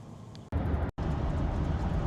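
A car with a Cadillac engine cruising on a highway while towing a chassis frame, a loud steady road and engine rumble broken by two brief cut-outs early on.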